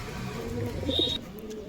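A red pigeon bought at Beldanga market gives a soft, low coo close by, a short burst of throaty notes without any talk.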